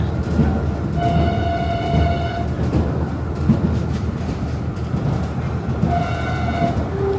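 A train runs along a Myanmar railway, its loud, steady rumble heard from on board with rattling wheels and a few sustained tonal whines or horn-like tones rising over it.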